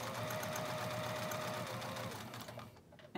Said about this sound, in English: So just stitch right on the line that you drew.